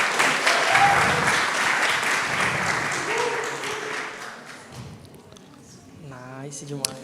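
Audience at a hackathon final presentation bursts into dense, sustained clapping that gradually thins and fades, with a few scattered claps and a voice beginning to speak near the end.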